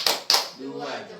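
A group of mothers clap twice in a quick cheer rhythm, two sharp bursts close together, followed by someone speaking.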